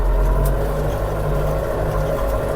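A Scout 404 walk-behind tractor drones steadily while plowing a garden in winter with a Uniya plow, its engine a loud, close, continuous mid-pitched hum with no talk over it.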